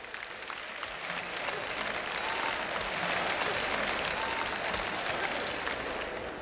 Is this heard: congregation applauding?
yes